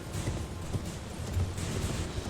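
Horse galloping in the Elden Ring video game, a continuous rapid drumming of hooves under a dense rumbling background, steady and moderately loud throughout.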